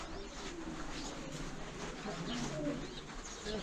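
Pigeons coo softly at a pigeon house among rock formations in Turkey, low repeated calls under steady background ambience.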